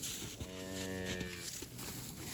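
A cow moos once in a long, low drawn-out call, fairly close, with faint outdoor background.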